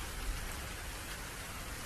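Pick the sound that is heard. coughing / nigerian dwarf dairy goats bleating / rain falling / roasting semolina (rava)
rain falling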